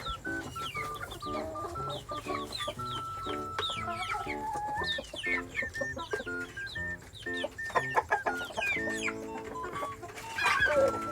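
Many chickens cluck and squawk continuously in a coop, overlapping calls filling the scene at moderate loudness, with a louder burst near the end.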